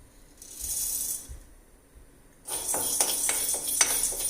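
Chana dal and urad dal dry-roasting in a pan for tiffin sambar powder: a soft sizzling hiss at first, then from midway a steady run of dry rattling and clinking as the lentils are stirred against the metal, close and fairly quiet, with no talk.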